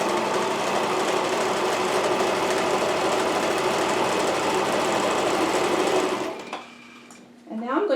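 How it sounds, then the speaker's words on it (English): A sewing machine runs steadily, sewing a quarter-inch seam around the curved front edge of a fabric face mask. The motor whirs loud and continuous for about six seconds, then stops, leaving a brief quiet with a faint bit of handling noise. "Now I'm going to sew about a 1/4 inch seam around the curved part of the mask"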